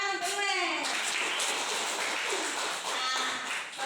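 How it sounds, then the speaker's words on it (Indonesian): Children in a classroom applauding during a plant lesson, a steady patter of many small hands clapping close by, with a voice at the start and faint voices mixed in. "Tepuk tangan, teman."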